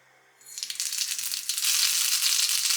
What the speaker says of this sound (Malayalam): വെളിച്ചെണ്ണ ഒഴിച്ച് നമുക്ക് കടുക് താളിച്ചിടാം